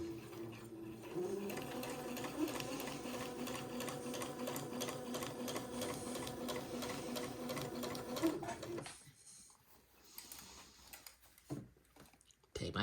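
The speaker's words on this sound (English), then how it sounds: "And begin to sew my gathering threads at 1/8 of an inch from the top of the bloomer." A sewing machine stitches gathering threads an eighth of an inch from the top edge of a bloomer, a steady rapid whirring and ticking for about eight seconds, then stopping into quieter handling noises and faint clicks.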